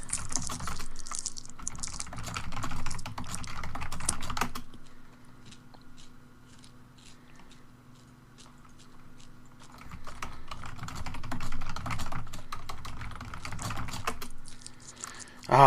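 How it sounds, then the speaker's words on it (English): Rapid clattering keystrokes on a computer keyboard during an online game, dense bursts of typing separated by a quieter pause with scattered taps, close to the mic and without speech. "Are you seeing what I'm typing?"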